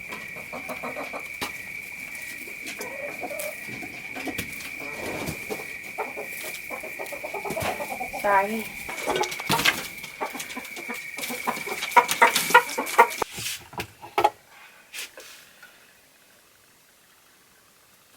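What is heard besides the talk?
chickens clucking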